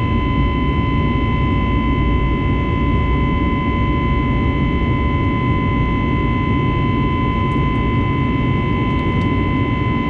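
Passenger jet engines straining hard as the airliner climbs after takeoff, heard from inside the cabin as a loud, constant roaring drone with a steady tonal whine throughout, no voices.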